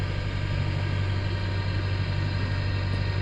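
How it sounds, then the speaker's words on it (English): A sailboat's engine runs steadily while motor sailing on Lake Superior between Marquette and Grand Marais, Michigan, giving a constant low drone and hum with no breaks and no talking. "started the engine"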